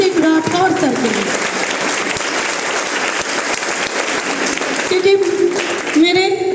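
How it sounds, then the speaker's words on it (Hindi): Enthusiastic applause from a gathered audience at a Friday training meeting in Muzaffarpur, honouring a mentor; steady dense clapping fills the whole stretch, with a voice speaking over it at the start and again near the end. "मेरे उस मेंटर के लिए एक जबरदस्त ताली नीरज सिंह राठौर सर के लिए"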